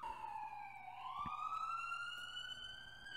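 Police car and ambulance sirens approach, a steady wailing tone that rises slowly in pitch and grows a little louder, with no talk.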